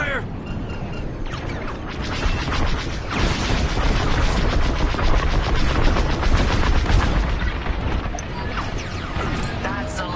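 Blaster fire and explosions from the Star Wars Squadrons space combat game, loud and nearly continuous, with rapid bursts and booms stacked over a dense roar throughout.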